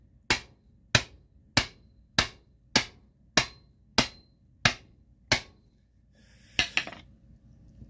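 A hammer strikes a big socket fitted on a front suspension part, about nine sharp, evenly spaced metallic blows up close, followed by a couple of softer clanks.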